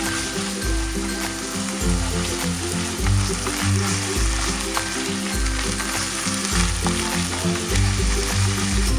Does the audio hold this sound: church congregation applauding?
no